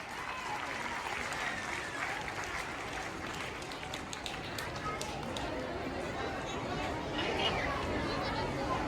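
Loud applause from a crowd welcoming judges at an Urdu primary school annual function, continuous clapping mixed with crowd chatter and movement, swelling near the end.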